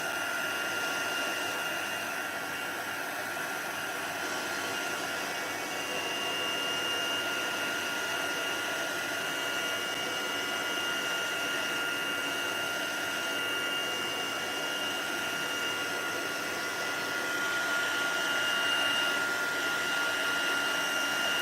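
A heat tool runs steadily while drying a handmade watercolour Christmas card, a constant whooshing blower hum that stays loud and even from start to finish with no talk over it.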